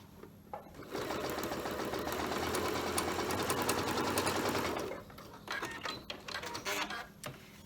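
A sewing machine stitches a quilt block seam in a steady, loud run of rapid needle hammering lasting about four seconds, then a few shorter bursts of stitching, close up with no speech.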